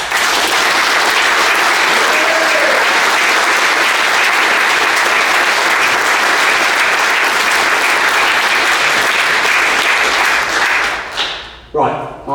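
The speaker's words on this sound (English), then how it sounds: "applause for Billy Cairns" A crowd at an opening ceremony applauds for Billy Cairns, dense sustained clapping that fills the room for about eleven seconds, then fades as a voice starts.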